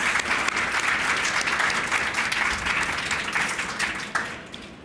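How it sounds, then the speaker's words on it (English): A warm round of audience applause welcoming panel speakers at an art-world discussion event, dense and steady clapping that holds at a fairly even level and tapers slightly toward the end. "giving our speakers, Camille, Basim, and Andrea, a very warm round of applause and welcome"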